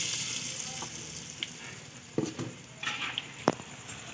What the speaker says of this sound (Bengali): দেখুন এবারে তেলে ছেড়ে দেবো